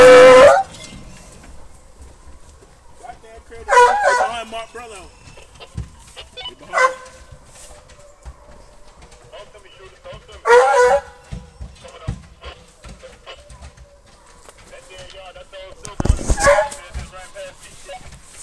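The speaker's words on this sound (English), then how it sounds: "please stop them dogs on the way out" Hunting dogs on a New Year's Day hunt give several sharp barks and yelps in scattered bursts, some near and some farther off, between quieter stretches and bits of talk.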